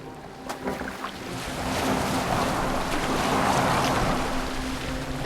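A boat moves across the water in Assassin's Creed Valhalla, with a steady wash of waves and breeze swelling slightly louder partway through, a faint low hum running beneath, and no talking.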